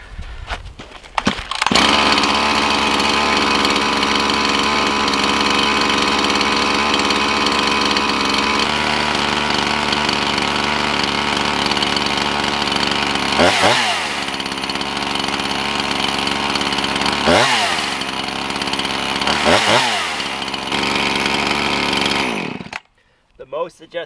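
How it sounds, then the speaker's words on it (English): Chainsaw after a carburetor adjustment, running loud and steady at close range for about twenty seconds, with several brief throttle dips, then cutting off near the end. "The most adjustment I had to get the low idle so the chain wouldn't spin is what we just had right there"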